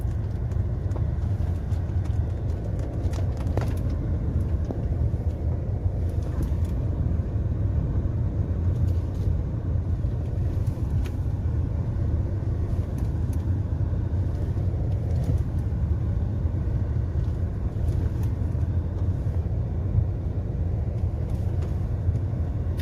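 Jeep Meridian SUV driving off-road, a steady low engine and drivetrain rumble from inside the cabin, with occasional knocks and rattles over rough ground and no voices.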